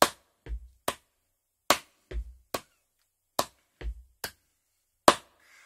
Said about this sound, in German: Wir klatschen gerade die sogenannten 16. Offbeats.